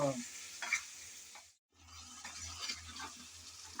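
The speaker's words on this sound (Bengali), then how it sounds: "এখন দিয়ে দেব আলু আলুটা দিয়ে ভালোভাবে নেড়ে চেড়ে কষিয়ে নেব" Raw potatoes stirred and fried in a pan for aloo dum with peas, a constant sizzle with spatula scrapes, briefly cut off by a short gap before resuming, close and fairly soft, no talking.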